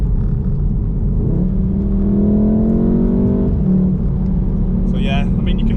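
A Volkswagen Golf R MK7, with all-wheel drive and in race mode, accelerates while engine sound is also played through the cabin speakers. A steady interior rumble rises into a revving tone under continuous talk.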